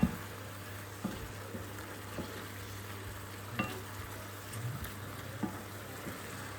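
Shrimp sizzle steadily in a pan, seasoned with salt and pepper, a constant quiet frying hiss broken by a few soft stirring clicks, with nobody speaking.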